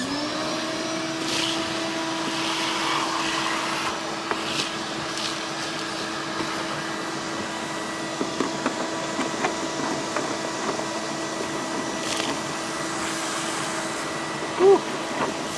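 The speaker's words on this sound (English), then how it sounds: "So let's just take our vacuum cleaner" A cordless Clean Max vacuum cleaner runs steadily nearby with a constant whine during a cleaning repair, accompanied by faint clicks and handling noises and a sharp tap near the end.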